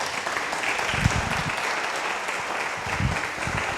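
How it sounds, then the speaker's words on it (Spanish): A church congregation breaks into applause for the Lord during a sermon on priesthood, producing dense, loud, continuous clapping that swells briefly in spots. "que le dé un aplauso al Señor"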